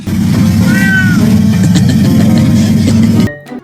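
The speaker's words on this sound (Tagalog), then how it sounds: "Eto talagang si kuya, iniistorbo mo yung pusa" A sleeping cat gets disturbed and lets out a loud, close, drawn-out meow over a dense steady background that cuts off abruptly near the end.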